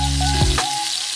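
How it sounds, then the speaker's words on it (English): Onion fries in a pan of hot oil, giving a brief, loud, steady sizzle with a short clatter near the middle. "Add onion. Fry 5 minutes."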